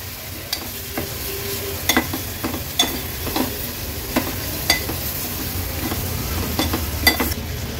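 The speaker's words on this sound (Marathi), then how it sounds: "आता ही स्वच्छ धुतलेली मच्छी आहे गोळीची, ती ऍड करते। व्यवस्थित मिक्स करून घेऊया।" Washed gholi fish frying in oil with turmeric and masala, stirred with a spoon: a steady loud sizzle with regular scraping clinks of the utensil against the pan, close up and without talk.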